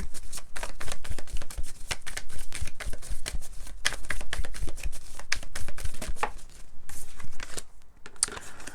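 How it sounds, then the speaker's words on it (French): Tarot cards being drawn and shuffled during a tarot reading, a dense run of quick papery riffles and flicks that carries on steadily with no talk. "Alors, attendez, je vais prendre des cartes par-dessus."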